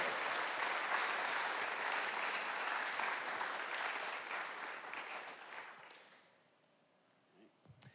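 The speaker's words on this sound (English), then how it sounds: "A round of applause for Joe and his work." A community meeting audience applauds steadily for several seconds after a feasibility study presentation, a dense even clapping that fades out near the end, leaving a quiet room.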